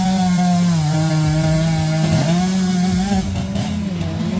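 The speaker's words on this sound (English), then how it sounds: "The Sile chainsaw, the tool commonly used in the competition, is equipped with a 2-stroke engine and a sharp chain" A two-stroke chainsaw cuts through logs at a lumberjack competition, its engine screaming loud and close in a steady high whine that wavers slightly as the chain bites into the wood.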